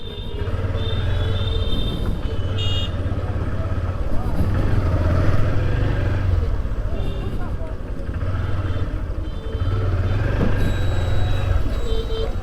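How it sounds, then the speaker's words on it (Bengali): Jammed road traffic heard as a steady, dense rumble of idling and creeping engines, with occasional horn-like tones and beeps above the low drone, continuous throughout. "এই জায়গায় যদি এত জ্যাম হয় তাহলে হবে"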